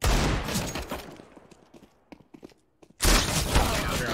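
Bursts of rapid gunfire from a CS:GO match, loud and dense at the start, thinning into scattered shots and a near-silent gap, then a heavy volley resuming; a voice is faintly present.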